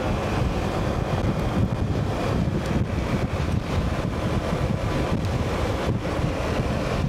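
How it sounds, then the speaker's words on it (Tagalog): Strong wind at high tide in Navotas roars and buffets the microphone in a constant low rumble, with a faint wash like surf or water underneath. "Mahangin at high tide."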